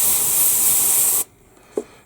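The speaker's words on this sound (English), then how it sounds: "But I gotta spray it now." An airbrush sprays paint inside an Airfix 1/72 B-17G model bomber, a loud steady hiss that cuts off abruptly after about a second, followed by quiet and a single small knock.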